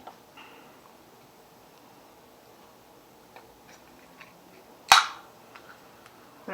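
A bent can of Diet Sunkist soda pops open in one sharp, loud crack-and-hiss, standing alone against a quiet room with a few faint ticks and taps around it.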